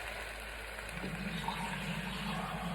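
Water runs from a kitchen tap into a measuring cup, a steady gushing flow with a low filling tone that shifts slightly as the cup fills, close and alone.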